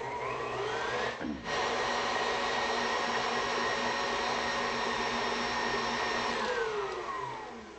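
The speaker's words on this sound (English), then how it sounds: "we're going to blend this until smooth" Electric mixer whirring steadily through cocoa, sugar and gluten-free chocolate cake batter, a continuous close motor whine with a brief dip near the start, then fading slightly at the end, no talk.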